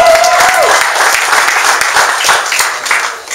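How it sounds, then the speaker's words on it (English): Audience applause at an evening holiday networking gathering, a dense, steady wash of many hands clapping that fills the room throughout, with no voice speaking over it. "give yourself a big round of applause just for being here tonight"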